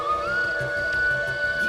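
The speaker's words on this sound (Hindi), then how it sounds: "ये तो बांसुरी की आवाज है।" A bamboo flute plays a sustained, gently bending melodic line at night in a forest, faint and somewhat distant, over a low murmuring background.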